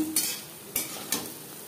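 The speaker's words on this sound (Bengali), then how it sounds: "উল্টে পাল্টে ক্রিস্পি করে ভেজে নিয়েছি।" Chana dal fritters frying crisp in oil in a pan, a soft steady sizzle broken by three sharp scraping strokes of a spatula turning them, close and with no voices.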